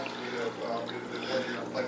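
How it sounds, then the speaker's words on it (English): An Aqueon QuietFlow 55/75 aquarium power filter runs with a low steady motor hum beneath a continuous close trickle and splash of falling water, and a person talks over it. "The actual humming of the motor is louder than the splash."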